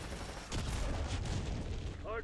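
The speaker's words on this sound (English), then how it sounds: "It's just constant explosions." Constant explosions rumble through a first-person shooter match, a continuous low booming wash with a louder blast near the start and a brief in-game voice at the end.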